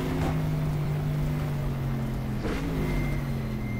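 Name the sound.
race cars gearing down in GTR2 video game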